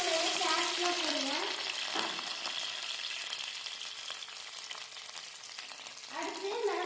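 Mustard seeds and curry leaves fry in hot oil for a Tamil potato gravy, giving a steady, close sizzle and crackle throughout, with faint stirring and brief hissing bursts at the start and end.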